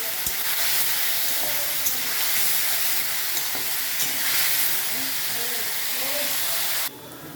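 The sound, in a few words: potatoes frying and sizzling in hot oil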